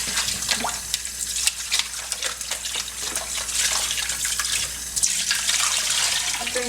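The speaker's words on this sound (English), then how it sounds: "I'm just rinsing the vinegar off at this point" Tap water running steadily into a container while vinegar is rinsed off a water starter, a continuous splashing hiss with small irregular bursts and drips close by, no talking.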